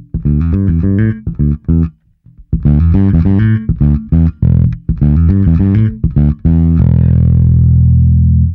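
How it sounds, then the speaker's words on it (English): Distorted bass guitar riffs through a budget bass driver DI preamp with built-in distortion, in choppy bursts, gritty and loud, ending on a long sustained fuzzy note that rings out. "the DI preamps with built-in distortion for less than 40 bucks"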